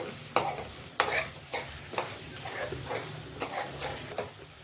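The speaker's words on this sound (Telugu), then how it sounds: "సాల్ట్ వేసిన తర్వాత మళ్ళీ ఒకసారి బాగా మిక్స్ చేసుకుంటున్నాను." Salted spinach and onion mixture being stirred in a pan with steady sizzling underneath, a spoon scraping through it in repeated strokes roughly once a second, close and moderately loud, with no talking.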